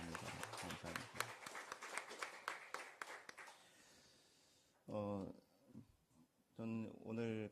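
A burst of dense, fast applause from a church congregation after a sermon fills the first few seconds, tapers off, and is followed by someone speaking.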